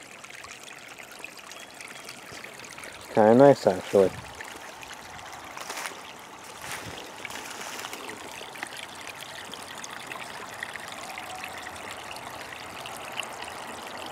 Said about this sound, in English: Well, I just found a little creek right here.